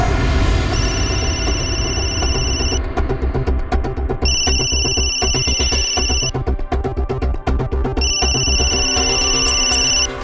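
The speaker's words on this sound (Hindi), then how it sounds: "फोन उठाओ" A telephone ringing loudly and close over dramatic background music, sounding in three repeated electronic ring bursts with short gaps between them, with no talk.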